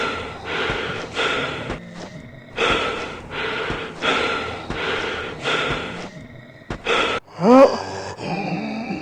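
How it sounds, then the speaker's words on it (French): Deep, heavy monstrous breathing from a creature in the video game Teddy Freddy, in slow repeated rasping inhales and exhales, loud and close, ending with a sharp gasp and a low growl. "on entend déjà son soufflet de bête"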